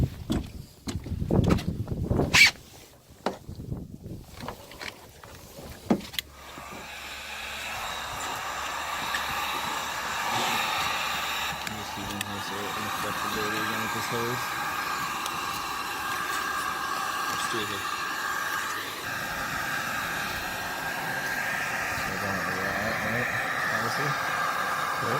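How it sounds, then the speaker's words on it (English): A heat gun blows hot air onto foam during an outdoor hot tub leak repair in freezing winter. A few knocks and clatter open the clip, then a steady, close whooshing drone runs on unbroken for about twenty seconds. "Can I get you on heat gun duty?"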